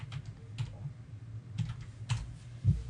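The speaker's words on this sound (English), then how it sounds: "We can just type Scuba." Keys clatter on a computer keyboard as a search word is typed, a quick run of soft, fairly faint clicks in uneven bursts with a low room hum underneath.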